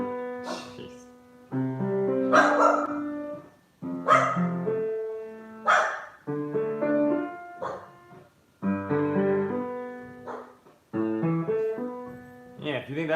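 A misbehaving dog barks repeatedly during a piano lesson, loud close barks and yips in bursts mixed with piano notes and a teacher talking.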